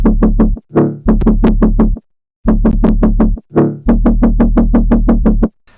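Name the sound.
jump up drum and bass bass sound before layering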